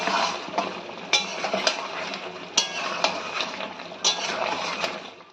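Chicken frying in a pan with black pepper as a utensil stirs it, a soft steady sizzle broken by several sharp scraping clacks against the pan, close and loud, with no talking.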